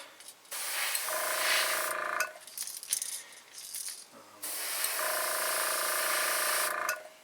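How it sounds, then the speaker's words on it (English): Two long bursts of hissing aerosol spray paint onto a fishing lure, each lasting a couple of seconds, separated by short rattles and handling noises, close and fairly loud. "now I'm going to just start spraying it kind of in random spots"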